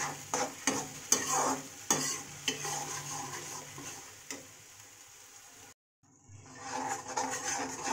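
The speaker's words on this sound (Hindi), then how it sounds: "अब इसको दो से तीन मिनट फ्राई करेंगे हम" An onion, garlic and ginger paste sizzles and fries steadily in a pan, with stirring scrapes and taps, then a brief pause before the sizzling resumes.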